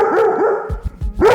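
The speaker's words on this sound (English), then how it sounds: "Yep, there's that bark again." A reactive female dog barks at strangers in a few sharp, loud, close barks spaced across the moment, with short low thumps between them and no talking.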